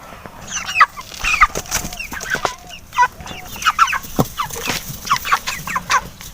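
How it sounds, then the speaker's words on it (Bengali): Chickens at feeding time in a rural courtyard cluck and squawk in a busy, overlapping chorus, loud and close. Short calls burst irregularly throughout, with a few soft thumps and faint wing movement. "চলো এবার মুরগিগুলাকে খেতে দেব"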